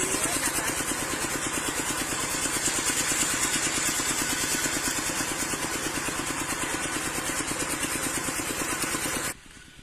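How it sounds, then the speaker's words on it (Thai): An engine-driven water pump runs steadily close by, a loud continuous chugging drone that holds throughout and then drops away abruptly at the very end. "ก็ตั้งเครื่องสูบน้ำไว้นะคะ"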